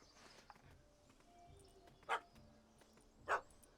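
A dog barks in The Witcher 3: Wild Hunt, two sharp barks spaced about a second apart over a quiet ambient game backdrop with faint clopping sounds.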